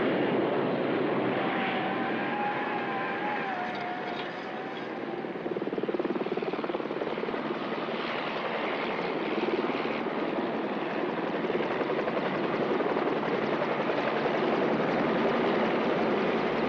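A special unit's helicopter lands, its loud, continuous rotor and engine roar dominating, close and steady, dipping briefly before resuming full strength.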